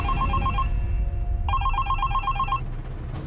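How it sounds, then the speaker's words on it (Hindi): A phone rings in a TV crime drama in two bursts of rapid electronic trills separated by a short pause, loud and close over a low rumbling background. "ये तेरा फोन बज रहा है? नहीं। फिर किसका फोन बजा?"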